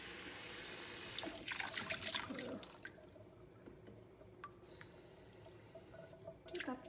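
Tap water runs into a cooking pot for two cups of water, a close splashing gush that fills the first seconds, then softer trickling and drips as the flow eases.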